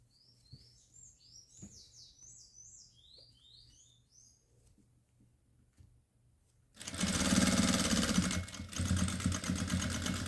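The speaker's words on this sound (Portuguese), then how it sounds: "Dou retrocesso para prender a linha, corto o excesso de linha" Sewing machine backstitching to lock the thread on a fabric border, starting suddenly and loud with a fast, rattling mechanical drone after a quieter stretch of bird chirps in the background.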